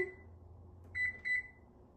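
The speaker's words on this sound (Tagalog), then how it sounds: "Lagyan natin ng timer para hindi makalimutan." A kitchen timer is set and started with two short, clear electronic beeps close by in a quiet kitchen, following a faint low hum.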